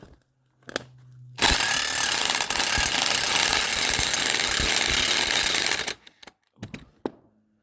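Electric impact tool working on a suspension arm bolt of a VW Passat 3BG TDI 4Motion estate, a loud sustained grinding rattle of about four and a half seconds that starts and stops sharply, with brief clanks and someone speaking French around it.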